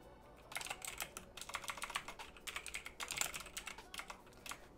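Rapid, steady clatter of keys being typed on a computer keyboard, close and fairly quiet, with brief pauses between bursts and no voices.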